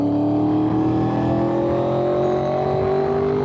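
A Honda VFR800fi motorcycle engine pulls under gentle throttle, a close, steady, droning roar whose pitch climbs slowly and smoothly for a few seconds, with no talk over it.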